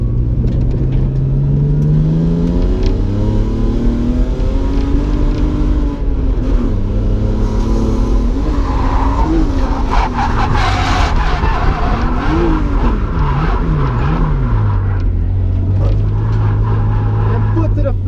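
At Driftland UK, a drift car is driven hard in second gear with the throttle floored, its engine revving loudly and tires squealing continuously through long slides, while voices talk over the racket.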